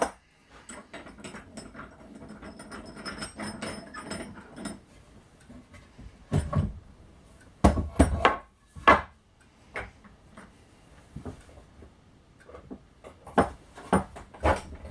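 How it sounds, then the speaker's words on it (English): Front jaw of a wooden Moxon vise being unscrewed, giving close wooden knocks, clicks and creaks in an irregular run of taps and rattles, with no one talking. "I'll just unscrew the front to reassemble this"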